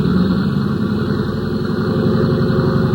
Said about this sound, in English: the big plane's engines were warming up for the trip to Dallas